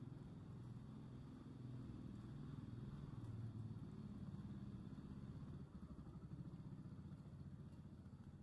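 A motorcycle engine rumbles close by on a road on a rainy day, a steady, low, throaty drone with slight rises and falls and no speech.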